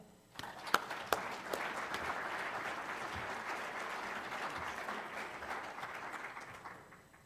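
Sustained audience applause welcoming a speaker named Chuck Cantrell to a meeting, starting with a few sharp claps and holding as a steady, fairly even roar of clapping for several seconds before easing off at the end.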